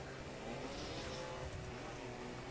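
A late-1960s Nissan Fairlady in The Crew rumbles along off-road, its engine a steady, muffled drone with rough road noise, fairly quiet and continuous.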